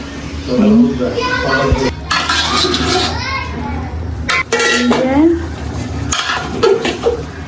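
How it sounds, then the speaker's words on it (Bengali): A metal pot lid and pans clatter and clank as mutton biryani is covered while it cooks. Adults and children talk over the loud, close kitchen clatter. "আমাদের মাংস আবারও ঢেকে দিচ্ছে, কারণ এখন কষানো হচ্ছে বারবার ঢেকে।"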